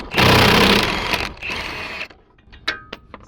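Impact tool whirring and rattling as it backs a bolt out of a wheel hub on a Nissan Frontier pickup, a loud sustained burst for over a second, a shorter second burst, then scattered metallic clicks and taps.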